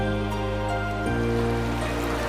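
A steady wash of surf, loud and close, continuous throughout with a low drone running underneath.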